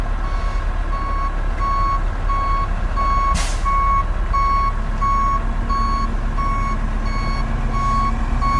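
A truck delivering a load of fill for a pole barn pad backs up, its reverse alarm beeping steadily and loudly over a constant engine rumble.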